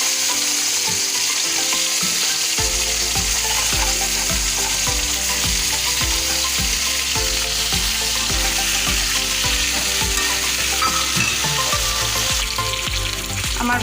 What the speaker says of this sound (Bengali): আলু আর পটলটা আমি ভাজবো তেলের ওপরে।